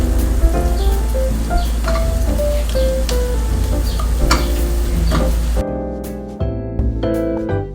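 Garlic frying in melted butter in a hot pan, a steady dense sizzle with faint stirring clicks and some tonal kitchen background, continuous and close throughout without talk.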